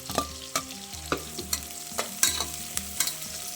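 Green chillies and onions frying in a pan, with soft continuous sizzling broken by repeated scraping stirs at a steady pace, close and moderately loud with no talking.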